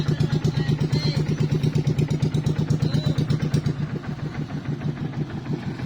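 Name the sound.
fishing boat engine running while being checked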